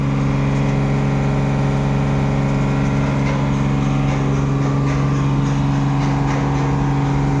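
A Tata 1109 truck, a 2020 model with a 19-foot all-steel body, idles steadily with a strong low engine hum throughout, close and continuous, with no talking.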